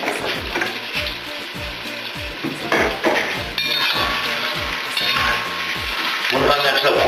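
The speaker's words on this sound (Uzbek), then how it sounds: "Buni ham yaxshilab qovurib olamiz." Carrots fry and sizzle loudly in a pot for borscht, with a steady hiss broken by repeated scraping and clinking as they are stirred, under a soft voice now and then.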